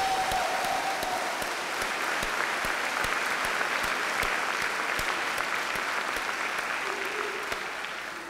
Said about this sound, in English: How about a nice round of applause for the Fredonia High School class of 2011?